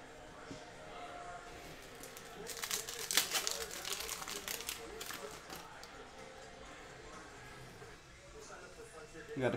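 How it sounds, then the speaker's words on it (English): Foil trading card pack for Panini Optic football being torn open, a short crinkly tearing burst up close in the middle of the clip, with someone talking around it. "Let's rip open that pack."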